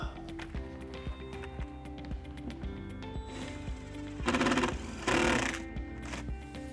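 A drill bores through a house wall for an EV charger's wiring, opening with faint rhythmic knocking and then two loud grinding bursts of a second or so each, close and harsh.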